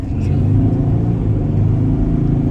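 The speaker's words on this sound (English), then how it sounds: "The engine roars." SUV engine roaring as it accelerates, a loud, close, steady low rumble with a slight rising strain throughout, heard alone without talk.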